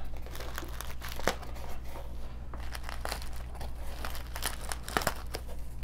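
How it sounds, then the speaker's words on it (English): Bubble wrap packaging is handled and cut with scissors, giving a steady run of close crinkles and snips with sharper crackles now and then, and no talking over it. "Let's get the scissors back out."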